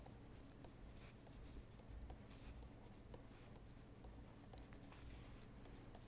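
Chalk or a marker scratches out an XOR expression in a lecture room, giving faint, quick strokes and taps that run in short bursts over quiet room tone with no speech.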